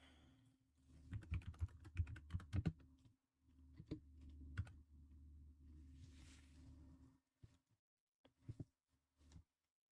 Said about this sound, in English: I'm just going to quickly mute the mic so that you don't hear my keyboard clacking away